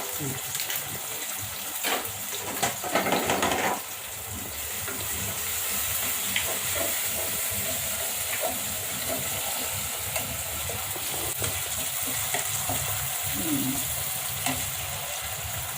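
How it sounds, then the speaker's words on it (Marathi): Onion and tomato sautéing with whole spices for vegetable basmati pulao, a continuous sizzle with bursts of spoon stirring near the start, under someone talking. "कांदा आणि टोमॅटो लालसर परतून घ्यायचे"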